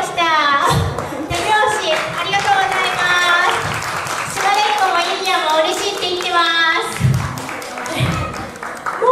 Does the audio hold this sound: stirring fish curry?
no